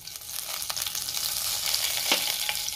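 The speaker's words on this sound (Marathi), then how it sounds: "तेलामध्ये मी जिरे घालते" Cumin seeds sizzling as they drop into hot oil, a bright steady hiss close up with a few small pops and a spoon scrape near the end, no talking.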